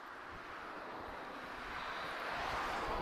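Steady jet engine roar of an Aer Lingus airliner moving at Lisbon Airport, distant and broadband with wind across the microphone, slowly growing louder.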